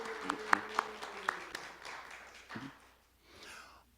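A church congregation gives a short round of applause, a few sharp claps standing out at first, then it fades out within a couple of seconds into quiet room noise with faint voices.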